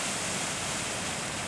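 Water rushes at a water treatment facility in Tempe, pushed out into a canal as a continuous, even hiss-roar that holds steady from start to finish, moderately loud.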